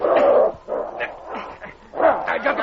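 A Malamute pup gives short, strained barks and whimpering yips in a few bursts, close and fairly loud, with pauses between them.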